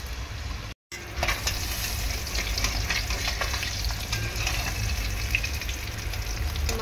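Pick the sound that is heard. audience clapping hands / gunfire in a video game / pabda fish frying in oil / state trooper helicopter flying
pabda fish frying in oil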